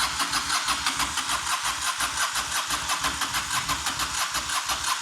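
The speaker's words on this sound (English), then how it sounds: "Now we get to crank it and crank it and crank it and pump fuel" A Honda Shadow motorcycle engine cranking over on its electric starter with the choke pulled, a steady rapid rhythmic churning that runs loud and close for the whole stretch without catching.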